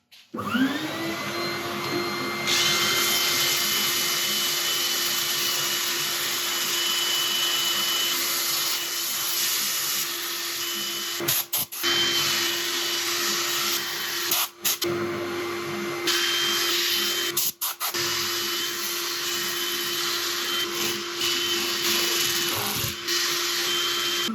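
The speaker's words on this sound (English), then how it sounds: "sanding went beautifully" A loud, steady whirring drone of a lathe runs continuously, with a few brief dropouts, as holm oak is power sanded while it turns.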